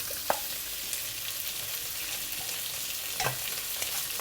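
Prawns frying in hot oil in a pan, a loud continuous sizzle with a couple of brief taps from a utensil against the pan.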